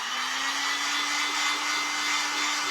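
A dryer blows steadily to dry fresh red paint on a refurbished tray, producing a constant close, loud whooshing hum with no pauses.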